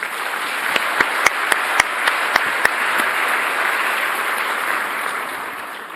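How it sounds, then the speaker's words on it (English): Sustained applause from a large audience at a business forum opening ceremony, a steady dense wash of clapping with a few sharper individual claps standing out, holding for several seconds before easing slightly toward the end. "I think they deserve a great round of applause."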